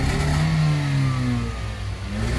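A car engine with a faulty clutch release bearing runs steadily and loudly up close, a low drone with a whining tone that slides downward and back.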